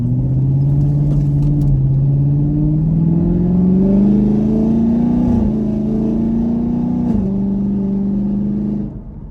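A car engine roars loudly and steadily, its pitch climbing as it revs and accelerates hard, with brief dips between gear shifts before easing off at the end.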